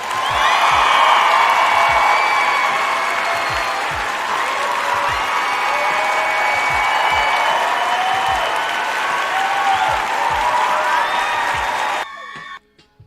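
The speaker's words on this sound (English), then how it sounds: "Round of applause for mental segregation" Sustained crowd applause with scattered whoops and cheers, loud and continuous for about twelve seconds before cutting off abruptly into near silence.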